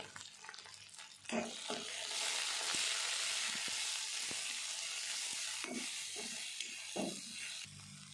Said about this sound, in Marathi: त्याच्यामध्ये मी आता अद्रक लसूण पेस्ट टाकणार आहे। आपल्याला त्याच्यामध्ये अगदी थोडंसं फ्राय करून घ्यायचं।